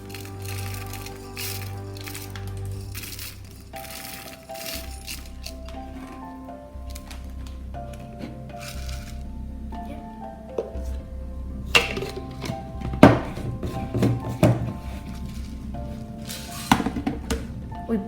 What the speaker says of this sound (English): first we need to blend this Szechuan chili pepper